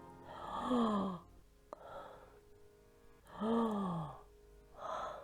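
Two long, drawn-out yawns, each a gaping breathy vocal sweep that falls in pitch, separated by quiet pauses, close to the listener.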